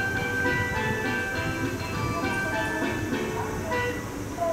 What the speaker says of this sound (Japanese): まもなく4番乗り場を列車が通過します。